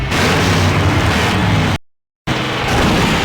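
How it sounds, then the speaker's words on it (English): A loud, sustained explosion rumbles and roars in the Full Throttle video game, broad and dense, cut by a half-second gap before the blast noise resumes just as strongly. "Now that's an explosion, ladies and gentlemen"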